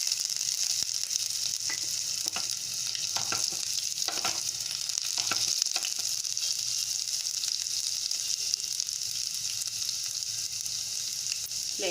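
Cumin, asafoetida and ginger sizzle and crackle in hot oil for an aloo methi potato and fenugreek dish, a steady close frying hiss with occasional stirring clinks and no talking.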